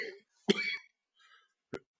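A single cough bursts out during a lecture-style reading, followed by a quieter throat sound and a second short, sharp cough, each brief and close with silence between.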